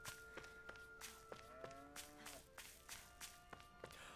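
A cow in the Tales of Arise demo lowing in a few drawn-out moos, soft and fairly distant over a quiet ambient bed punctuated by light footstep-like taps.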